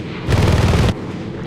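Rapid tank gunfire in War Thunder's realistic battle mode, one loud, dense burst of about half a second over constant engine rumble, close and heavy.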